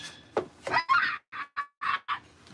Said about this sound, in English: Obviously, we have birds out today.